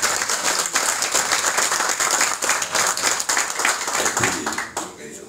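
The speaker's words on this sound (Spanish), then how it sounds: "Un aplauso." Audience at a liberation conference in the Dominican Republic breaks into steady, loud applause, dense clapping that holds for several seconds before tapering off near the end.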